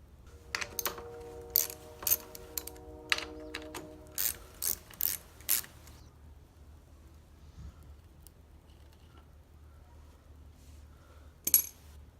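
A ratchet works on engine bolts of a Yamaha PW50 mini dirt bike, clicking in quick close bursts of pawl ticks over several seconds, then going mostly quiet before one last click.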